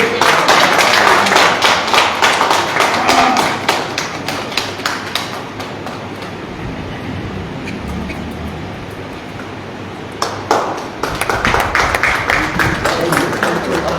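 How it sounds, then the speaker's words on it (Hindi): An audience at a Hindi literary event in Kashipur claps loudly in a dense, continuous burst that thins to scattered claps midway, then swells again toward the end. "तालियां बजाइए जोर से।"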